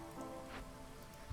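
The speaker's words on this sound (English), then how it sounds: "You are now in the drizzle season." Steady patter of game rain falling on surfaces during the drizzle season in Against the Storm, a soft continuous wash of droplets with no talk, faint and even throughout.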